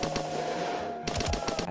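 Thompson submachine gun firing in a Unity indie hiking game, two rapid automatic bursts, loud and close, with no talking.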